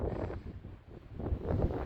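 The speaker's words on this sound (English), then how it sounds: "Bit windy though" Gusty wind buffeting the microphone on a golf course, a low roaring rumble that swells and dips throughout.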